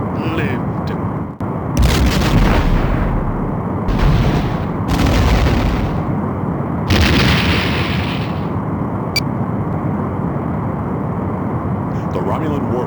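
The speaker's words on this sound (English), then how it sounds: "The Romulan warbird has been destroyed." A Romulan warbird is destroyed in combat in the Star Trek A Final Unity video game, with loud, continuous roaring explosion blasts and rumbling bursts under a speaking voice.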